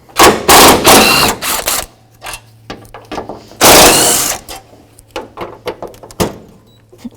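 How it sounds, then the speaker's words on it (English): A ratchet with a T30 Torx bit socket working on the radiator mounts of a 1984-2001 Jeep Cherokee, giving loud close bursts of rapid clicking between pauses and short metallic knocks and rattles. "So this is a T30 Torx bit socket."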